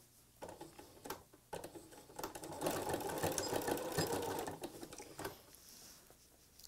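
Domestic sewing machine stitching a patriotic cathedral window quilted pillow, a steady fast mechanical patter that builds over a few seconds, runs continuously, then slows and stops, close and clear with no talk.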